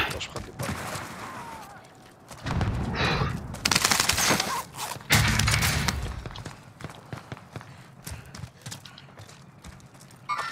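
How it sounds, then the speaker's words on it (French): Gunfire in Call of Duty: Modern Warfare on Rebirth Island, loud bursts of rapid shots clustered in the middle, with scattered pops before and after and players talking over it. "Il y a un mec qui me tire dessus."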